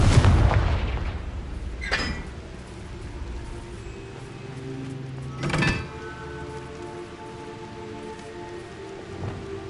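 Confringo fire spell in the Hogwarts Legacy video game: a deep, heavy explosive burst at the start, then two more sharp blasts. A crackling, rain-like hiss fills the gaps between them.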